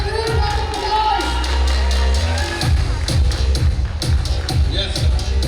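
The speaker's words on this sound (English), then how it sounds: "Please give them a huge round of applause." An audience at a college farewell event breaks into cheering and clapping, loud and close, with shouts and whoops over a thumping low rumble from the hall.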